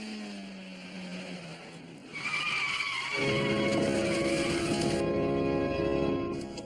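A car's tires skid loudly during a handbrake turn on a driving course, starting with an engine hum and rising into a sustained squeal and scrub that holds for several seconds.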